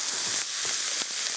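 Vegetables for fried rice sizzle loudly in a hot pan while being stirred, the hiss swelling and dipping with a few soft scraping strokes of the utensil over a short stretch.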